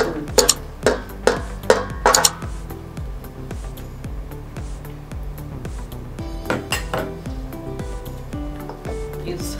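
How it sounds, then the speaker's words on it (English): Abacha African salad being mixed in a bowl, with a run of close metallic clanks and scrapes of a spoon against the bowl, loudest early and later softer and rhythmic. "You still give it a mix."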